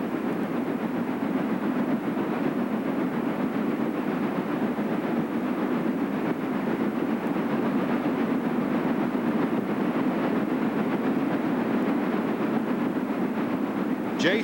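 A C&O J2 steam locomotive hauling a train, a steady rumbling roll with faint clickety-clack of wheels, continuous and fairly loud at a middle distance, with no voices.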